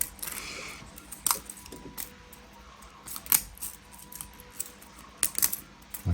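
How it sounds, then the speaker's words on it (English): Plastic support pieces snapped and torn off a 3D-printed part, a handful of sharp, close cracks and clicks scattered between quiet pauses. "So these outside bits, you just rip off"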